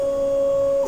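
A 3D printer in a maker lab runs with a steady, high electronic tone from its stepper motors, holding constant for about a second before breaking off into a brief shift in pitch.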